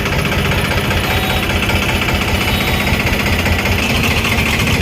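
A tractor engine idles while hauling sand, a steady loud mid-pitched rumble with constant vibration filling the whole stretch, no voices on top.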